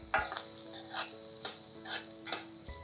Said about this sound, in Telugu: ఓకే, కొద్దిగా వేగనివ్వండి.